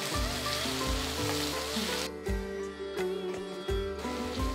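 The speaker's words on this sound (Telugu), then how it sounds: "సో ఇప్పుడు ఆవాలు చిటపటలాడిన తర్వాత మనం ఉల్లిపాయలని వేసేసుకుందాం" Sliced onions going into hot oil with spluttering mustard seeds while cooking a brinjal green chilli curry, a steady sizzle running throughout under prominent background music.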